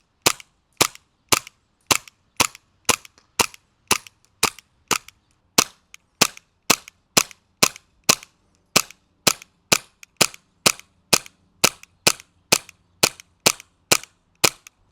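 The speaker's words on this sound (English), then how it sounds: "if we really try, we could probably hit easily 175 to 200 feet away with this pistol" Airsoft pistol firing BBs at long range, about thirty sharp, crisp cracks in a steady rhythm roughly every half second, loud and close with quiet gaps between shots and no talking.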